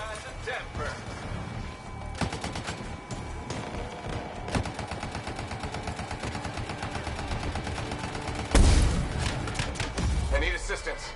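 Rapid, sustained automatic gunfire from a shooter in the game Anthem, dense bursts of shots running continuously with a heavier impact near the end, mixed with game effects and speech over it.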